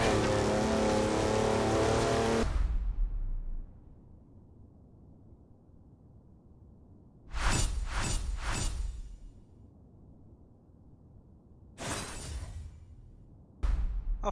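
Chevy ZR2 off-roader in Forza Horizon 4, its engine loud at first, then dropping away to a low hum, with short bursts of revving and rushing impacts returning several times.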